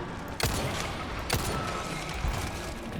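Two sharp handgun shots from the video game Resident Evil 4, spaced about a second apart over a steady bed of game music and ambience.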